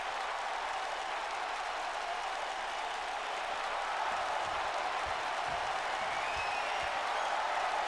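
A large wrestling arena crowd at a Raw event applauding and cheering steadily, a broad continuous roar of claps and voices at moderate distance.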